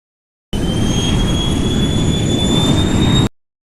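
A library jet engine effect plays its loudest stretch: a powerful, steady roar with a thin high whine that begins abruptly, holds constant for about three seconds, then fades quickly out to silence.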